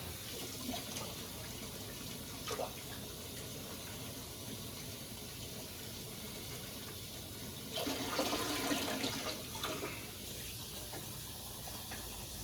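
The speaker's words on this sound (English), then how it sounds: "We're going to rinse the ice off of this." Tap water running to rinse ice off a wild pork backstrap, a soft steady hiss of flowing water with a louder gushing burst partway through, no talk.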